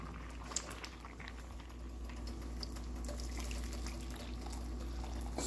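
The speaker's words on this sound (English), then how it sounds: "Slowly pour it in there, make sure most of the juice is out first, and then followed by any leftovers." Spicy ramen broth is poured from a pot into a bowl, heard as a continuous close liquid stream and bubbling slosh lasting several seconds with no talking.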